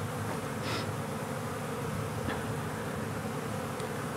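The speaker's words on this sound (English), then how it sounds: "They're building a little bee tether line." Honeybees building comb inside a hive make a dense, steady buzzing drone that stays close and even throughout, with no voices.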